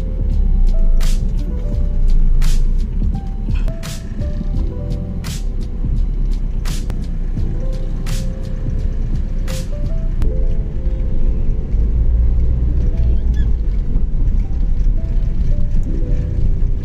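A car with a slight fault in fifth gear runs on a city road, its steady engine drone and road rumble continuous and fairly loud, with several brief sharp clicks or taps standing out over the noise.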